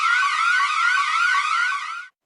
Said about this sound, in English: Suddenly, a loud siren blared through the hallways.